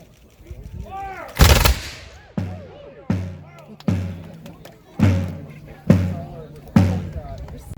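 A historical musket volley fired during a demonstration at Fort Dobbs: one loud, sharp blast followed by a series of booming echoing reports and thuds at regular intervals, with a voice calling out commands beforehand.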